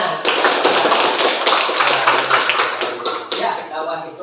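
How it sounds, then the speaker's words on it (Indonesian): Classroom applause from a group of students, dense steady hand clapping filling the whole stretch at close range, with faint voices underneath. "Tepuk tangan."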